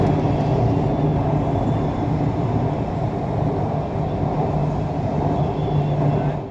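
The Bagh Express, train number 13019 running from Kolkata, rolls along as a loud, continuous low rumble and rattle heard from inside the carriage, steady throughout with no clear voices.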